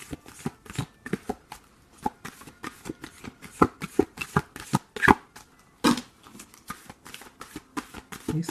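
Tarot cards being shuffled by hand, a rapid series of crisp riffling and slapping bursts repeating in an irregular rhythm, close and fairly loud, with no talking.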